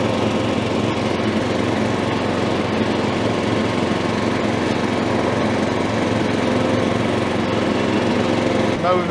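A Mountfield ride-on lawn mower mows with its blades engaged, giving a loud, steady engine drone and blade whir that runs continuously without a break.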